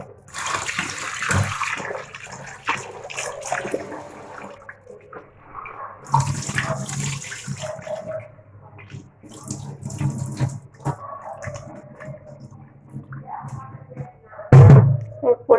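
Rice being rinsed under a running kitchen tap, close bursts of splashing water with pauses between washes, under intermittent talking.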